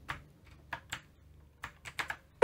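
Typing on a physical keyboard connected to a mobile phone, a sparse run of separate crisp key clicks at an uneven pace, close and fairly quiet.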